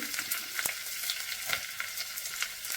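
Ginger, curry leaves and garlic sautéing in a pan for a Kerala potato sardine curry, a soft, steady sizzle with light stirring scrapes and small crackles, faint and close, with no talk.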